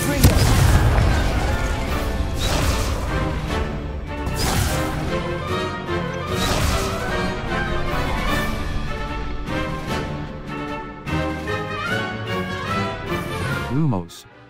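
Confringo fire spell blasts in Hogwarts Legacy land as several loud booming impacts, layered over a dense musical game soundtrack, with the final burst fading out abruptly.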